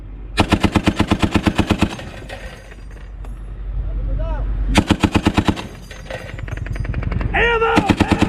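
U.S. Marines fire a machine gun during a heavy live-fire exercise, with two long rapid bursts of loud, close gunfire separated by a gap of rumbling background and shouted voices, then a third burst starting at the end.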